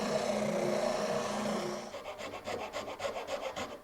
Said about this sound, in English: some final touch up here at the oscillating spindle sander